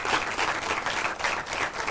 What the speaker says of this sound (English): But a round of applause for yourselves.